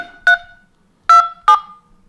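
Phone keypad tones sound while a conference PIN is entered on a telephone: three short, clean two-tone beeps, one alone and then a quick pair, separated by silence.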